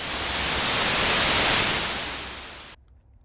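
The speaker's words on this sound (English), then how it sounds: "this synthesizer's got a built-in overdrive, adding a little bit of distortion to it" Synthesizer white-noise sweep pushed through the instrument's built-in overdrive, a loud hissing rush that swells, peaks and fades before cutting off abruptly into near silence.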